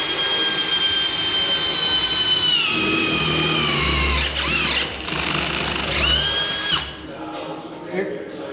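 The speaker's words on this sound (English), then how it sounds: "Stage 2 high-speed drill" A high-speed drill lubricated with cutting oil bores a hole just over 3/8 inch through 1/4 inch steel plate, a loud close whine with shifting pitch over steady motor noise, the bit biting in briefly.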